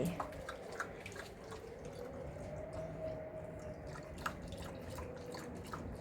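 A pet laps water at home, giving soft, rapid wet drips and squishy licks in an irregular patter, close by and quiet, over a low steady background hum.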